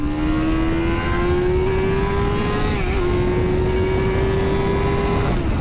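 A Yamaha R7 motorcycle accelerates hard during an overtake, its engine note climbing steadily in a loud, close, continuous howl over wind roar before easing off near the end.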